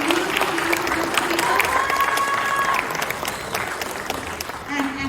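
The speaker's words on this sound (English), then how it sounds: "Round of applause for this beautiful, beautiful" Dense applause from a crowd, steady and loud throughout, with a few voices and faint tones mixed in beneath the clapping.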